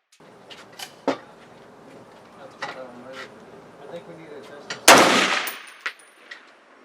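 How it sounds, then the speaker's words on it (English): A Ruger SR762 rifle firing military XM80 ball ammunition at an outdoor range, with one loud close shot standing out among lighter clicks and handling noises while someone talks. "We are going to shoot just some military XM80 ball to get some copper in the barrel"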